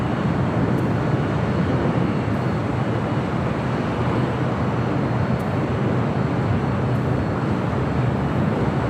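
A 33-year-old Delta Air Lines Boeing 767-300ER jet at Los Angeles airport gives off a steady, loud, broadband engine roar that holds unbroken and continuous throughout, with no talk.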